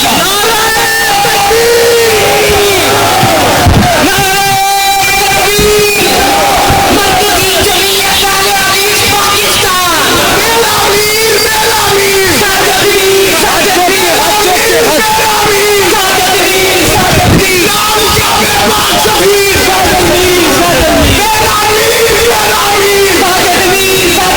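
A large crowd at a religious-political rally in Lahore shouts loud slogans in unison, with roaring, yelling voices filling the whole stretch and pausing briefly near the start before surging again.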